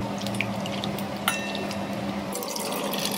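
Water pours into a bowl of tamarind pulp, a short close splashing fill with a few drips and no talk.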